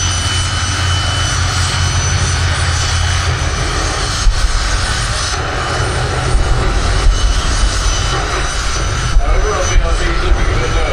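A pair of jet dragsters race side by side at the Santa Pod drag strip, a loud, sustained jet-engine roar with rumbling low end that fills the whole stretch without a break.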